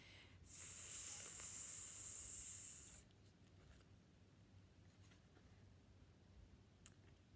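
A voice imitates a snake hissing, one loud sustained hiss of about two and a half seconds, followed by quiet room background with a few faint small sounds.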